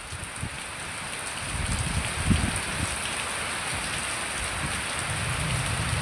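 Heavy rain pours down steadily in a dense, even hiss with spattering drops on a surface nearby, a constant wash lasting throughout with no voices.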